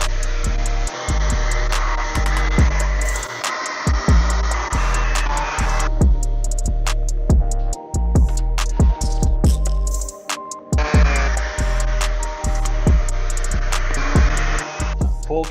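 Power sanders and shop vacuums at work on a scooter engine test stand, with coarse 120 and fine 320 grit abrasive. A loud, continuous whirring roar runs throughout, dropping back briefly midway before the full din returns.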